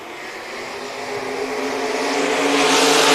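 IMCA SportMod race cars roar around the dirt oval at West Liberty Raceway, a loud, steady engine drone that swells as the pack accelerates into the first turns.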